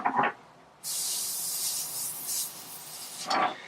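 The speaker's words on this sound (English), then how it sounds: "So if I spray this up against this one here" A steady airbrush hiss sprays for about two and a half seconds between brief handling noises, close and fairly loud, while painting a 1:72 Tamiya Tornado F3 model kit.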